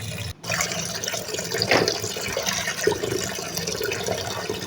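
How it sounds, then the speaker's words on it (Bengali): Sliced papaya rinsed under running water, a steady close splashing flow like a tap filling a bowl, continuous after a brief gap at the start. "পরিষ্কার করে ধুয়ে দিই"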